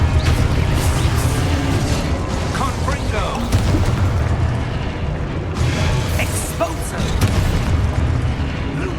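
Confringo fire-spell explosions in Hogwarts Legacy, with loud booming bursts and crackling over a constant rumbling game soundscape lasting the whole stretch.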